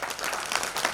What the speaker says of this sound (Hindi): एक बार फिर से ताली बजा के स्वागत करिए।